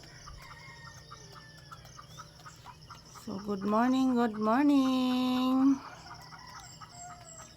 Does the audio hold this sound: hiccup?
no